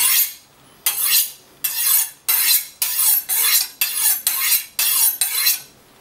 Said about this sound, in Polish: Możemy też używać tak jak tradycyjnej stalki do wyrównywania krawędzi, ciągnąc w przeciwną stronę do krojenia.